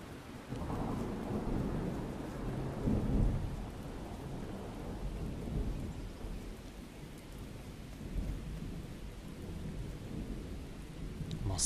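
A thunderstorm in the survival video game Miscreated on Orca Island: steady rain pours across surfaces while low thunder rumbles and rolls, swelling briefly, a continuous moderately loud wash with no speech.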